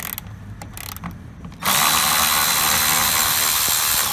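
A ratchet works loose a 10 mm bolt under the rear seat of a 2003-2007 Honda Accord: a brief, quieter stretch gives way to a loud, steady run of fast clicking that lasts to the end, close up with no talking.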